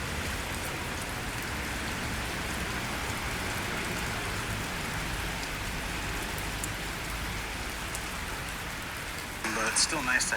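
Continuous rain pours down in a steady hiss and patter on a street walk in northern Tokyo near Akabane, with a brief louder clatter near the end; no talking.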